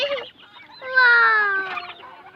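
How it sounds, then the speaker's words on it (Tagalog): On a farm of native geese, turkeys and chickens, a goose gives a loud, drawn-out honk, with shorter squawks before and after it, close by and without talk. "Ang daming ganso mga idol sa mga native oh."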